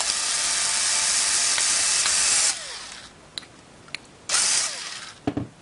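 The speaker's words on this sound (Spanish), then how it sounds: "Para las llantas delanteras no tenía el mismo tamaño de las traseras, así que utilicé estas un poco más grandes y las vamos a fijar con unos tornillos." Screws are driven in to fix the front wheels onto a homemade worm robot. A loud, steady whirring grind runs for a couple of seconds, followed by sparse clicks and a second whirring burst with a few sharp knocks.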